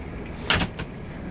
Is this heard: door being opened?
yes